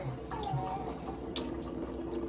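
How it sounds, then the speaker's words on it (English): Water runs into a kitchen sink and is swished around by hand while rinsing food, a steady close splashing and gurgling with occasional sloshes and drips. "all I do is I fill it up with water, kind of mix it around with my hand"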